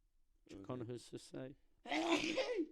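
A voice says something briefly, then a single loud, breathy sneeze bursts out close by.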